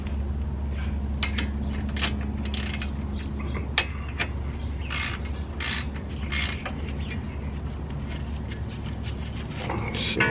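A hand ratchet clicks and creaks while backing out 17 mm brake caliper bolts on a Lexus RX330 during a front brake job, with scattered metallic clicks close by over a low hum.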